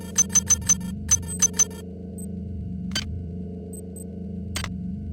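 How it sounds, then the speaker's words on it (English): A security camera in System Shock 2 beeps in a quick, uneven run of short, bright electronic chirps, then gives a few sparser tones and soft clunks against a steady low background hum. "This is a security camera."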